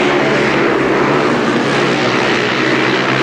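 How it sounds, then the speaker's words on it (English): A speedway motorcycle races flat out on a 408-yard oval track, its engine a loud, steady, continuous roar held at full throttle for the whole stretch with no break. "the little Bellevue Ace really is a beautiful sight in full cry on a speedway bike"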